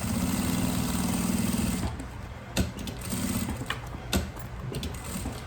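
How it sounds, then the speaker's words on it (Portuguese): A sewing machine stitches bias binding around a curve on a floral makeup bag, running in a steady whirring burst, pausing with small clicks as the presser foot is lifted, then starting again briefly. "Observem pelo barulhinho da máquina que eu sempre costuro na curva e vou levantando o calcador."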